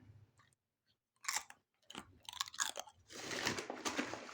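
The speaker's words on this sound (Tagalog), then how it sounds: "Dinig yan, malutong siya, malutong." Close crunchy chewing of crackers, with loud crisp bites followed by steady munching, near the microphone and without talk.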